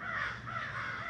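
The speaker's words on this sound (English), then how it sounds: "We've got some crows outside today, so you might hear them in the background cawing" Crows cawing outdoors in a suburban garden setting, a steady run of harsh calls heard at a moderate distance with no voices.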